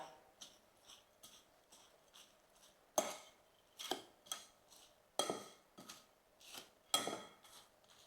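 A spoon clinks and scrapes in a bowl while wet bhel of puffed rice, chutneys and onions is mixed, with a run of sharp, irregular taps and rattles at close range and no talking.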